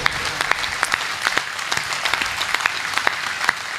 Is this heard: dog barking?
no